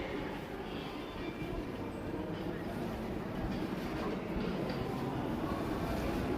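A Southeastern train rumbles at a station platform with steady wheel and carriage noise, a constant low rolling clatter close by and moderately loud.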